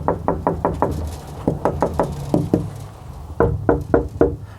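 Repeated knocking on the coated part of a Lortone TS10 trim saw, a series of close, dull, hollow thuds in quick groups of four or five with short pauses between, alone without talk.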